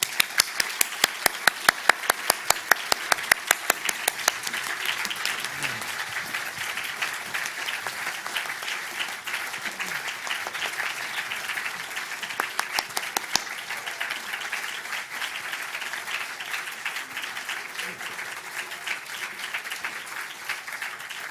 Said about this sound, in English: please put your hands now together and welcome the 2023 Dublin Literary Award winners